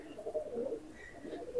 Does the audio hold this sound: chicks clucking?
no